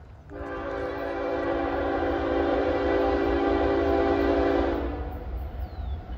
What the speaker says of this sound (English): I got here just in time for a train